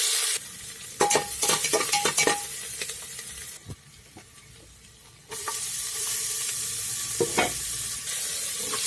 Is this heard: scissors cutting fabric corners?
no